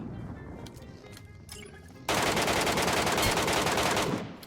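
Rapid automatic gunfire in PUBG Mobile erupts abruptly after a quieter stretch, dense and loud for a couple of seconds before tapering off.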